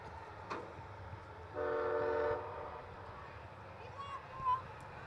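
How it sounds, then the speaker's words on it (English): A distant freight train rumbles past a high school football game as a horn blows one sustained blast for under a second, with faint crowd murmur in the background. "This one's another freight train."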